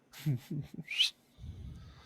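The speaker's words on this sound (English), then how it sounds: "I say we whistle for our donkey and horse" A person gives one short, sharp whistle to call a donkey and a horse. It comes right after a few brief vocal sounds and is followed by low rustling.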